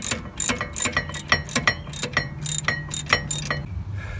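A hand ratchet clicks in quick, steady bursts while tightening brake caliper bolts on a BMW during a front and rear pad replacement, close and loud with no talk.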